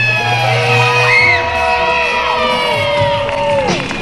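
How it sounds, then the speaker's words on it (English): A large wrestling crowd cheers loudly at an indoor match, with whoops, shouts and high-pitched yells layered over a continuous roar that stays close and loud throughout. "Y'all make some noise for Riker, baby!"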